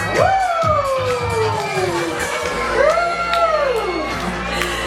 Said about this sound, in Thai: ชอบกองเชียร์ตัวเล็กตัวน้อยหน้าเวทีมากเลยลูก